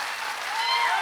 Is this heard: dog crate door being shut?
no